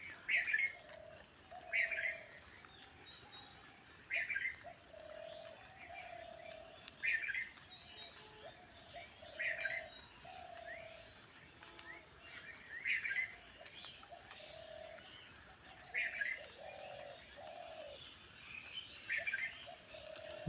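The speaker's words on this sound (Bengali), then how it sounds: "পাখির ডাকে আসলে এতটাই ভালো লাগে কি বলবো তোমাকে আর এই ঘুঘু পাখিগুলো সারাটা দিন এখন ডাকবে" Birds call outdoors at dawn in a repeating pattern, a sharp chirp followed by a lower hooting dove coo every couple of seconds, moderately distant and quiet.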